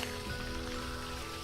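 Rain in the Virtual Villagers 4 game, a faint, steady patter of drops on a surface, constant and quiet with no talk over it.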